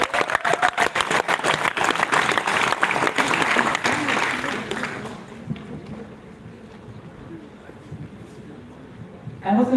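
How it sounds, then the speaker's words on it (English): An audience applauds to welcome a speaker to the stage at an HPAIRx 2022 event, loud dense clapping for about five seconds before it fades to quiet room tone, with a brief burst at the very end. "Please help us in giving Ayush a warm HPAIRx welcome"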